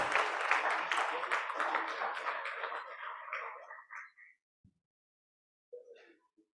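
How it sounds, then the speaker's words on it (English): A workshop audience claps steadily, the applause tapering off over a few seconds before fading into quiet with a couple of faint sounds afterward. "A big round of applause."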